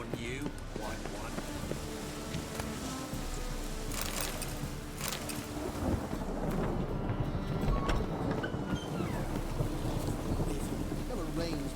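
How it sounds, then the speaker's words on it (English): A thunderstorm with heavy rain in The Witcher 3, a steady roar of downpour and wind with rumbling bursts of thunder, set beneath game dialogue. "A storm, damn it"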